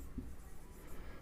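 A short stretch of chalk or marker writing an answer on a board, a faint, close scratching and rubbing heard alone without talk.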